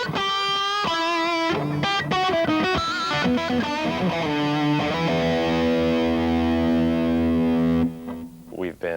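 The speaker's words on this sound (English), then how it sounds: "maybe some raunchy distortion thing for your fat lead sound" Ibanez electric guitar played through a heavy distortion effect, sustained overdriven chords and riffing ringing loud and up close, then cutting off near the end.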